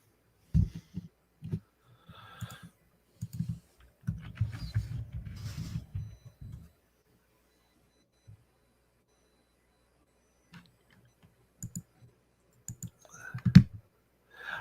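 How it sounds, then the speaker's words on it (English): Faint clicking from a computer mouse or keyboard comes in scattered bursts of quick taps, with a denser stretch of low-pitched clatter early on and then sparse isolated clicks in a quiet room. "I can hear you clicking"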